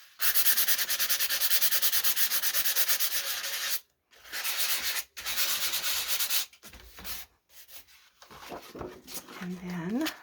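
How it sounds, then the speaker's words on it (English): Sandpaper rubs steadily across a paper journal page in long repeated strokes, close and fairly loud, pausing briefly between passes before someone speaks near the end. "we're just going to give that a little bit of a sand so that shows up"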